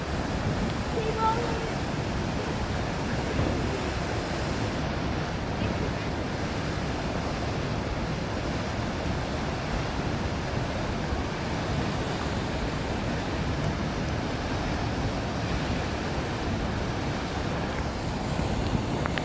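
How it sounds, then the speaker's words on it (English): Floodwater rushes down a street laneway during a major flood, a steady, loud, broadband roar of churning water that holds for the whole stretch without pause, with people talking nearby. "see the water flowing. This is like Niagara Falls."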